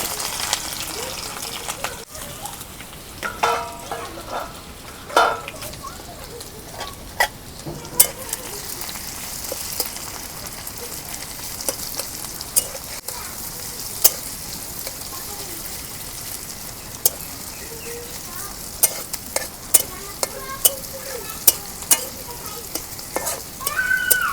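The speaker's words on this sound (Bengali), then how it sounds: "তেল গরম হচ্ছে, এখন আমি পেঁয়াজ কুচি দিয়ে দিই।" Chopped onions sizzle and crackle steadily in hot mustard oil, with occasional sharp pops and stirring scrapes throughout, close and fairly loud.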